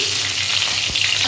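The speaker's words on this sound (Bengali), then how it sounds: "এইবার রান্নার জন্য আমি তেল দিচ্ছি, একটু 5 ফোড়ন দিচ্ছি" Panch phoron spices hit hot cooking oil, setting off a loud, dense, unbroken sizzle with a faint stir near the end, brief and close, with no talking.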